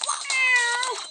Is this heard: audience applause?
no